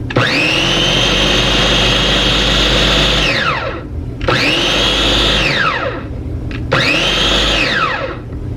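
A SakerPlus multifunctional large-capacity grinder chops salsa ingredients in three loud, close bursts of high whirring motor, each spinning up, running steadily, then winding down with brief pauses between.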